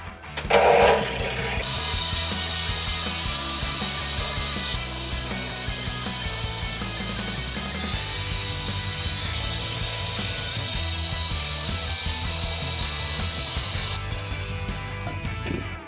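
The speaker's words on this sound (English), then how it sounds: "So now, we're going to grind." A power grinder runs continuously during home renovation work, a loud, steady, high-pitched grinding whine with a harsh, broad roar that holds almost unbroken for about fifteen seconds, close by and with no talk.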